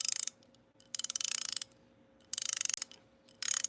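A cheap Cobalt ratcheting wrench clicks out four quick, close-up bursts of rapid ratcheting, each lasting about half a second, separated by quiet pauses.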